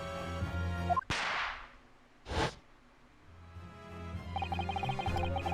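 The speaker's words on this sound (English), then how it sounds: "The Venus Special that you sell for 600 pennies sound like this." A Venus Special firecracker in The Great Ace Attorney goes off with one sharp, loud crack that rings out over a soft musical backdrop, followed later by a short whooshing burst before the music returns.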